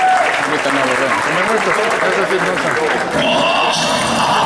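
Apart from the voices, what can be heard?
audience applause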